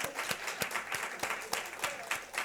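Audience at a church gathering clapping for the first-place young adults group, a brisk burst of rhythmic applause with sharp regular claps over a soft room murmur.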